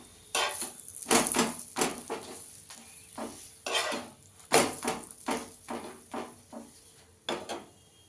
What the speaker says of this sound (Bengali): আমি এইভাবে সেঁকে নেব।